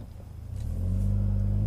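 A Mitsubishi Evo X MR engine climbs toward its red line at full throttle, a low steady rumble that swells into a loud, sustained rising drone heard up close without any talk.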